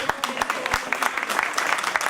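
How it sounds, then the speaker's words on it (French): An audience at the Bugatti Festival awards ceremony in Molsheim applauds the organizers, with a dense, steady burst of clapping that fills the room and continues evenly throughout. "On peut applaudir tous les organisateurs."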